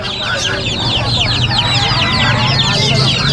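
Many Asil chicks peep in a dense, continuous high chirping chorus at a busy outdoor pet market, close and loud, with a low murmur of crowd noise underneath.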